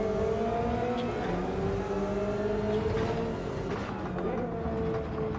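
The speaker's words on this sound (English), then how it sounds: "I can hear he's going down to like second gear there" A race car in Gran Turismo 7 drops down to second gear, its engine note sliding and shifting over a continuous loud whine of motor and road, with no pauses in the drone.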